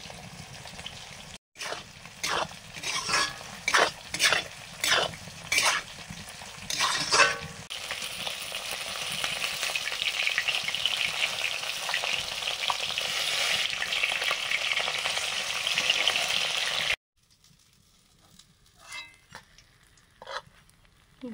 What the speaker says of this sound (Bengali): ভোলা মাছ ভাজা হয়ে গেল।